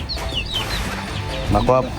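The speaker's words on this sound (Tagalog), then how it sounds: "Gutom na gutom talaga ang mga manok." Hungry backyard chickens cluck in short, close bursts, with a louder cluster of calls near the end over steady low background noise.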